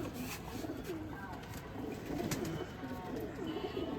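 A hand-held pigeon with golden eyes coos on a rooftop, giving soft, low, repeated coos close by over a faint background hiss.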